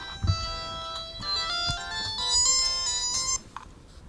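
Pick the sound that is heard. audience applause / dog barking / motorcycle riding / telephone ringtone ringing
telephone ringtone ringing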